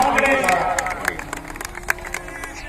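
An audience claps at the opening ceremony of an all-India hockey tournament in Tikamgarh, scattered applause and crowd noise beneath a man addressing them over a loudspeaker.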